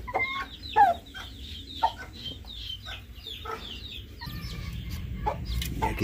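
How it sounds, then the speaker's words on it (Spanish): Chicks cluck and peep in short scattered bursts over a low rumbling background, several birds calling nearby. "Y aquí tenemos más pollitos."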